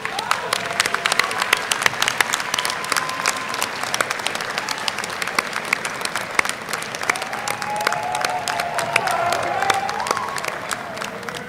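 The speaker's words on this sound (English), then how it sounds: "let's give them a round of applause for the support and love they've shown you." Graduates at a winter university commencement ceremony applaud their guests and loved ones: a large crowd's sustained clapping fills the hall, crisp and continuous, with a few voices and faint cheers mixed underneath.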